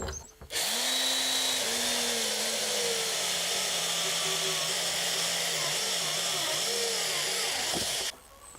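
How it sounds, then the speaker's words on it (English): A power drill whines steadily for several seconds, its pitch wavering slightly under load, starting and stopping abruptly; close and loud. "I'm just going to carry on drilling all the way around"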